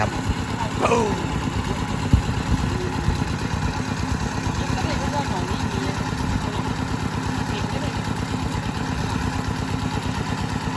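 An engine-driven pump thrums steadily beside a rice field, drawing water in from a small canal. It gives a continuous loud mid-pitched drone with a clattering texture, and a brief knock cuts through it.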